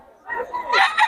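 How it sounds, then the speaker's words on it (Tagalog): A rooster crows close by in a single rising and falling call lasting about a second, from a breeder's stock of gamefowl shown off to visitors. "Ito yung manok niya mga idol."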